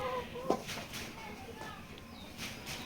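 Duck and chicken chicks peep and chirp in scattered high calls amid a busy hatchery room, with a sharp clatter early and people talking faintly.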